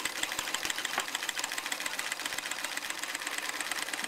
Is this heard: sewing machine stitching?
yes